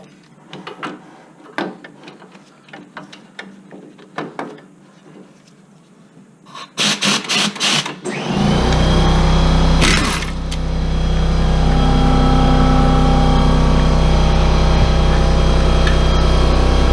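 An air wrench working on the CV axle of a Lincoln Navigator, heard close up as a few short loud bursts followed by a long sustained pneumatic whine, with earlier clinks and rattles of tools before it starts.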